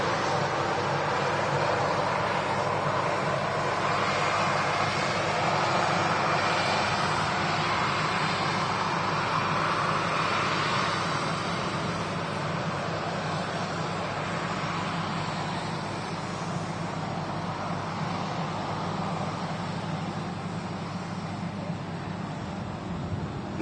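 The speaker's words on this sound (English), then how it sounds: "Another arrival, Ryanair NG." A Ryanair Boeing 737NG jet comes in to land with a broad, steady roar that holds at a moderate distance and slowly fades, with no speech.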